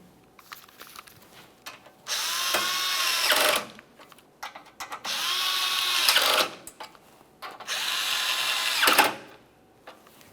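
Three bursts of a cordless power tool running, each about one to two seconds, snugging the radiator mounting hardware on a 2017-2024 GMC Acadia, close and loud with short quiet gaps between.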